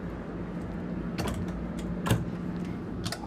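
A drawer in a 2016 Winnebago Tour 42QD Class A motor home slides open with a few short creaking, rattling bursts over a low steady background hum, fairly close and moderately quiet.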